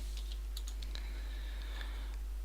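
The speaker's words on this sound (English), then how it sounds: "I'm going to come down here and then going to start typing" Code is typed on a computer keyboard for a beginner C# programming lesson, with quick irregular clusters of crisp key taps, close and clear, and no talking.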